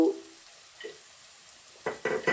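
Chopped onions frying in a pan while cooking down until soft for a curry with egg and dried fish, giving short bursts of sizzle and stirring that grow louder toward the end.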